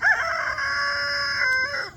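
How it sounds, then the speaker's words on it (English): A rooster on a backyard farm with about fifty chickens crows once, loud and close, its sustained call filling the whole moment on its own. "I've got probably still a total of about 50 chickens"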